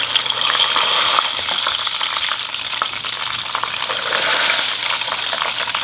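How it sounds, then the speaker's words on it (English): Chuck steak deep frying in hot oil, a loud, close, continuous crackling sizzle with bubbling that holds steady throughout, with no voices. "chuck steak I sous vide and try to deep fry that for lunch"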